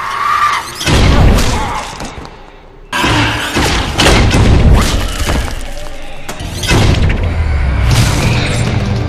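Balls hurled from ball launchers rigged as weapons, heard as a run of heavy thumps, smashes and crashes in loud bursts, with a short lull before the impacts start up again.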